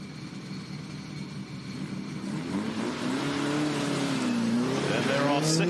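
Race cars accelerating around the Calder Park Thunderdome oval, engine noise rising steadily from a distant drone to a loud, close roar with sweeping pitch changes as they pass, under faint background commentary.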